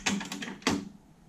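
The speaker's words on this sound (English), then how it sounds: "which is the playhead spinning around on this turntable." The rotating playhead mechanism of a Sony TC-RX80ES cassette deck gives a couple of close mechanical clicks and a brief whirring rattle, then a faint hum.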